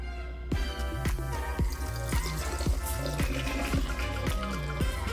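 Leave-in hair spray mix of moringa and rosemary is poured into a bottle, a steady close trickle with a rhythmic glugging that rises in pitch as the bottle fills.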